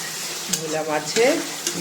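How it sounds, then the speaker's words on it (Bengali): New potatoes sizzle in a pan with spices while being stirred, giving a close, crackling fry broken by a few brief scraping strokes. "এই যে দেখো মশলা দিয়ে নতুন আলুগুলো কষাচ্ছি"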